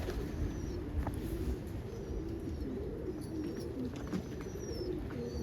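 Pigeons coo softly, among them a dominant opal, in low, rolling calls that repeat over a steady murmur of birds nearby, with faint higher chirps scattered through.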